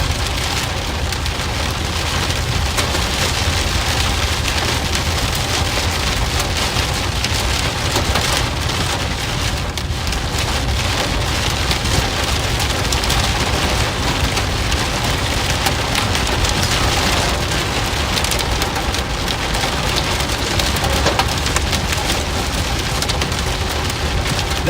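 Small pea-sized hailstones fall during a supercell storm in Joplin, Missouri, making a loud, dense, continuous patter and rattle on surfaces that goes on without a break and with no voices.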